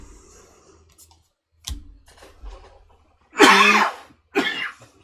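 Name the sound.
coughing and throat clearing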